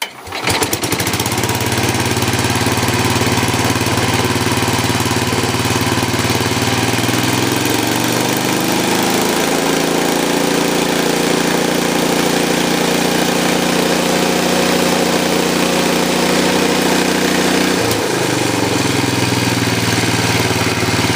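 A 1967 Sears Custom 6 garden tractor engine runs steadily and loud for the whole stretch, a constant close-up idle drone with a slight shift in pitch partway through and no talking.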